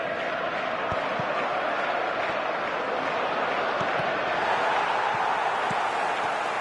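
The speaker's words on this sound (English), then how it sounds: "the crowd are reacting to that now." A stadium crowd in the PES football video game surges and roars in a steady, dense wash of cheering, continuous and loud throughout with no distinct break.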